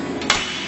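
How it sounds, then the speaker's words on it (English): One sharp, close hammer tap rings out against a Prince Rupert's glass drop, a short bright click over a steady low background hum. "We can actually hit this thing with a hammer and it won't break."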